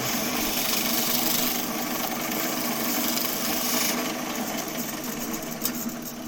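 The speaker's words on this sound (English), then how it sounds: "sanding will take it down to where I need that" Sandpaper rubbing steadily against a turned wooden piece spinning on a lathe, a continuous loud hiss with no talking.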